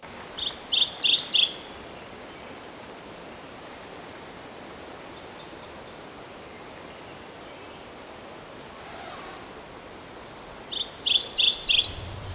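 Two short bursts of high, bright warbler song, one at the start and one near the end, over steady soft background hiss.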